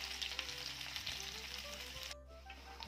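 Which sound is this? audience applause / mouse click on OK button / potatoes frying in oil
potatoes frying in oil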